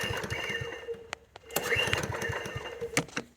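A Corba roller lawn mower engine, just serviced and refilled with oil, is started in a workshop and runs with a choppy, rapid chugging, a brief dip and a few knocks before it picks up again close by.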